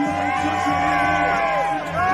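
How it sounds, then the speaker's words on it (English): Loud crowd cheering and whooping at the Ice Climbing World Cup lead final in Champagny-en-Vanoise, a steady roar of spectators that swells under a commentator's continuous talk. "you can just hear that crowd getting louder and louder"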